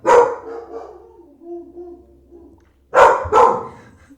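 Dogs bark loudly at home, a burst of barks at the start and then again after a pause of near silence, with quieter yips and whimpers in between.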